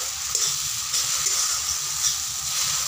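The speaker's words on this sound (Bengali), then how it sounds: "মশলাটা দেখো প্রায় কষানো হয়েই গেছে, মশলা থেকে কিন্তু আস্তে আস্তে তেল ছেড়ে দিচ্ছে।" Spiced masala for a Bengali egg curry sizzles steadily in hot oil, a continuous bright frying hiss with faint stirring, close and even throughout with no talking.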